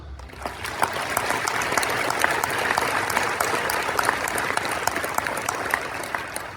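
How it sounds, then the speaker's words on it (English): A graduating class of 2025 and their audience clap together at an honors ceremony, a sustained wash of applause with crisp individual claps standing out over several seconds. "Give yourselves a round of applause"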